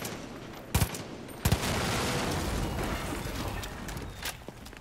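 Far Cry 5 gunfire: two sharp close bursts of shots open, then a sustained rumbling barrage with a few more cracks near the end.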